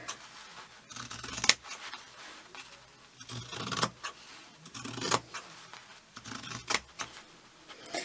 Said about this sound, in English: I mean, you can cut these however you want to.